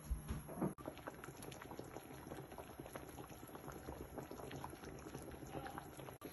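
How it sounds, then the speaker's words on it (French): Covered pot of fish soup with fresh shrimp simmering, a soft steady bubbling and crackling close by, faint and continuous with no talk. "Vous couvrez et puis vous laissez cuire pendant 20 minutes à peu près."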